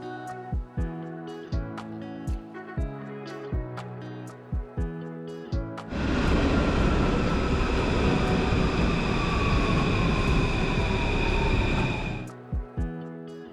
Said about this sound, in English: took the yellow 9 metro line to